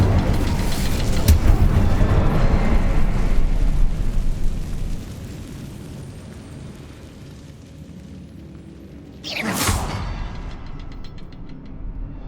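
Hogwarts Legacy Incendio fire spell: a loud, rushing fiery roar that dies away, a quieter stretch, then a sudden sharp whooshing burst flaring up and fading into a crackle.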